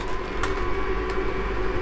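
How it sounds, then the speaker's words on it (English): A ventilation fan in a camper van shower runs with a steady whirring hum, close and constant, with a couple of faint clicks over it. "And I'll turn the fan on."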